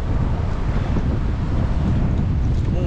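Steady, loud wind buffeting the microphone on open water beside a fishing boat near a marina and mangrove river, a continuous roar with faint wave wash and no talk.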